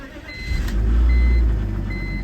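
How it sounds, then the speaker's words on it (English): A BMW E46 engine idling at 900 RPM after new ignition coils, a steady low rumble with a faint repeating beep over it. "Idling at 900 RPMs."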